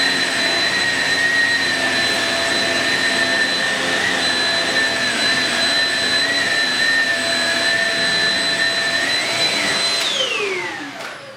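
A Shark Rocket Powerhead vacuum cleaner runs steadily with a loud, close motor whine and high tonal hum, holding constant for about ten seconds before the pitch drops away as it powers down.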